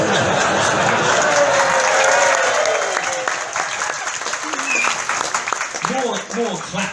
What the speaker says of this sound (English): More claps than laughter there